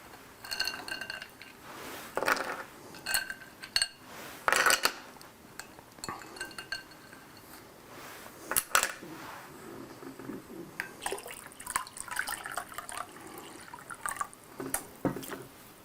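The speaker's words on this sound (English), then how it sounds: "taking out the ice and then adding some hot water in order to warm up the water bath more quickly" A water bath is worked on by hand, ice clinking and knocking against the container as it is lifted out, then hot water splashing and trickling in, with intermittent clatters, all close by.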